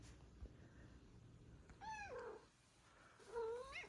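A house cat gives two distinct meows, close and moderately loud, separated by a short pause over quiet room background.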